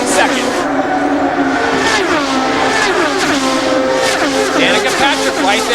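IndyCar race cars take the green flag at the 2005 Indianapolis 500, a loud, dense roar of high-revving engines with rapid pitch sweeps as cars pass close by, mixed with announcer commentary over the top.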